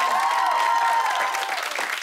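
A studio audience at a talk show breaks into a dense burst of clapping and cheering that fills the room, loud and continuous.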